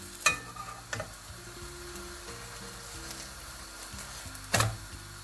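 A protein paratha sizzles steadily on a hot griddle, with a few clear scraping taps as it is flipped, close and fairly quiet, no talking.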